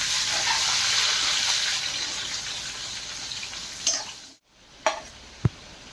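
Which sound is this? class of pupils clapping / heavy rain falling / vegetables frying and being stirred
vegetables frying and being stirred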